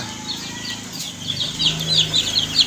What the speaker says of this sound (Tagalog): Yung iba dito, yung bagong pisa dito yan, bagong pisa.